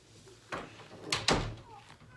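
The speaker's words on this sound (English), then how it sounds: "can you guys close the door again, please?" A house door swings and thuds shut in two quick knocks close by, with a softer bump just before and quiet room tone around it.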